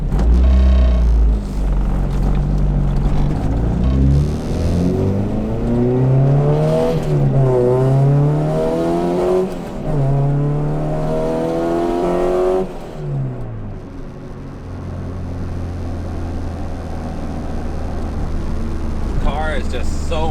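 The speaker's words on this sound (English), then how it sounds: "The car is just so much fucking noise" A Honda Integra DC5R is driven on a cold winter road, its engine droning loudly with rising and falling revs over constant road rumble, while a person talks over it inside the cabin.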